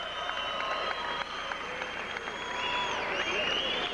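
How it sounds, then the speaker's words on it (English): Crowd applause in a gym during a 1981 girls' high school state championship basketball game, steady clapping throughout with some whistles and voices over it. "Stephanie Chambers now gets a big round of applause, number 40."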